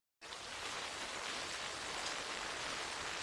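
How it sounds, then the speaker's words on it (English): Monsoon rain falling on dusty ground starts abruptly and then holds as a steady, soft hiss of drops for a few seconds, fairly faint and even, with no voices. "When the first fat raindrops hit the dust"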